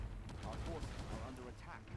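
Artillery guns fire in The Scouring, a fantasy strategy game, during a battle against dwarves. The shots are a dull, low rumble of booms at low volume, heard together with a voice.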